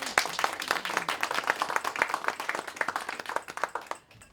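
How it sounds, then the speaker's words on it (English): Audience applause at the close of a poetry reading festival, a dense patter of many hands clapping steadily for about four seconds before tapering off, with no talk. "Applause, please"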